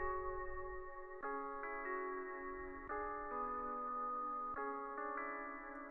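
A synth melody of sustained, stacked chord tones with the Gross Beat effect added in music production, chords changing every second or so over a steady, slightly chopped rhythm, loud and without voices.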